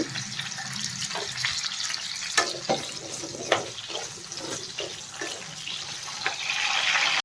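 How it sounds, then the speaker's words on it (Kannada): Drumsticks (moringa pods) frying in hot oil over a low flame, a steady broadband sizzle with scattered sharp pops and crackles, close and continuous throughout. "ಎಣ್ಣೆ ಬಿಸಿ ಆಗಿದೆ ನುಗ್ಗೆಕಾಯಿನ ಇದರಲ್ಲಿ ಫ್ರೈ ಮಾಡ್ಕೋಬೇಕು"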